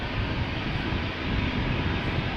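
A TUI passenger jet departing Amsterdam Schiphol Airport gives a steady, loud, broadband engine roar with a heavy low rumble, unbroken throughout and without any talk.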